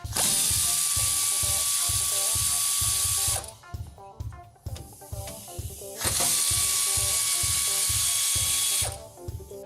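A ratcheting tool working on the brake caliper of a '73 Mustang, with two long bursts of rapid, loud mechanical clicking and whirring, each followed by a quieter stretch of softer clicks and handling noise.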